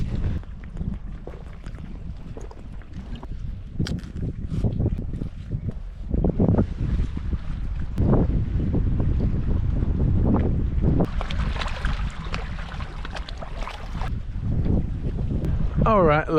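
Strong gusty wind buffets the microphone, roaring and rumbling in uneven bursts that rise and fall.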